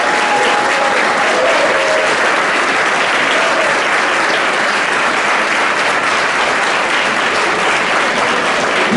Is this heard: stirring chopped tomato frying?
no